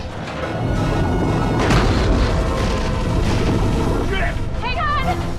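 Torpedo blast in a monster action film, a loud sustained rumbling boom with heavy low roar lasting several seconds, with shouting voices and a high whine near the end.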